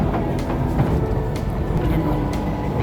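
Train rumbling past near a station in Singapore, a steady, loud low roar with faint rail rattle running throughout, close by and unbroken.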